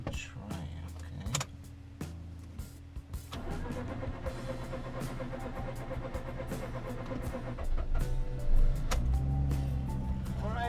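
A Mazda RX8 rotary engine being deflooded cranks and catches, then idles steadily with a low hum and a brief rise in revs near the end, heard close.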